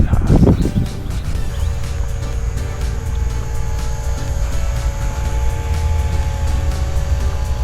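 A Savage Bobber RC airplane converted to single-cell 1S power makes a low pass, a steady buzzing motor drone that stays fairly near and even, preceded by a brief louder rustle at the start.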